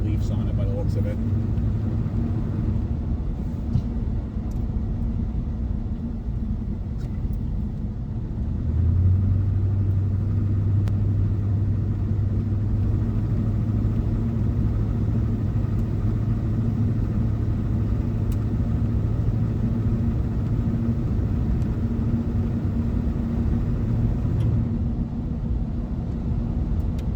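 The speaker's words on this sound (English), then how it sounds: "this thing drives pretty good for a four-wheel drive truck" A vintage big block Chevy squarebody four-wheel drive truck with front leaf springs drives along, its engine a steady, loud low rumble and drone that holds unbroken throughout, with a slight rise in tone partway through.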